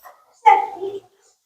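A dog at a Treasure Island dog park lets out a short whining yelp, close and alone, after a faint brief sound and before silence.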